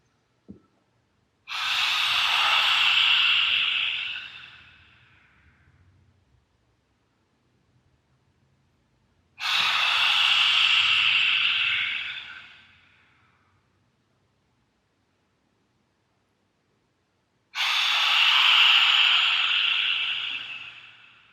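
Three long, forceful lion's breath exhalations from simhasana yoga practice, each a loud breathy rush lasting a few seconds, separated by quiet gaps of several seconds.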